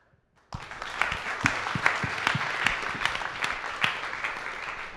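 Applause for a tech security panel starts abruptly from silence and carries on as a dense wash of clapping from an audience.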